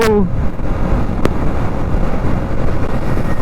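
A BS3 KTM Duke 390 motorcycle is ridden on the road, its engine drone blended with loud rushing wind buffeting the microphone, steady and close throughout.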